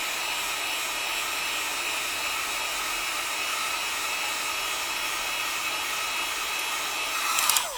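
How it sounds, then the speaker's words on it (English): A Wagner heat gun runs on high, a steady, close, loud whooshing blower hiss that holds evenly throughout, with a brief clatter near the end. "I turn my heat gun on high. I have a Wagner heat gun."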